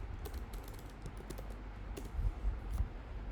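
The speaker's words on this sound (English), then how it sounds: "In the text input field, the user can type the queries." A computer keyboard types a query: a quick run of soft, close key clicks in an irregular rhythm over a low hum, with no talk.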